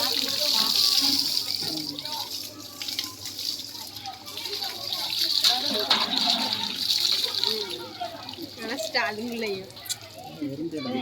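Turmeric water poured out in a village courtyard while children and adults chatter, a steady splashing stream running under the voices throughout.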